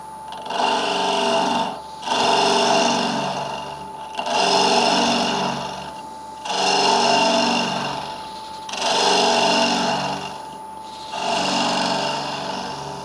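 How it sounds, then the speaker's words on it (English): A power drill with a 16mm bit grinds steadily into ash wood in five long pulses, each several seconds, separated by brief pauses; loud and close with a humming whine. "then drill a hole down fairly deep"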